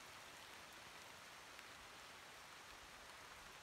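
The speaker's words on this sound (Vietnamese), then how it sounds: "Những hạt mưa vẫn tiếp tục rơi xuống các bạn ạ." Rain falls steadily in the cold mountains near Fansipan, making a constant, even hiss with faint scattered drop patters and no voices.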